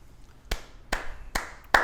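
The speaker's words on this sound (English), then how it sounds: "Clap sound effect" Four sharp, separate hand claps spaced unevenly about half a second apart, crisp and close against a quiet background with no talk.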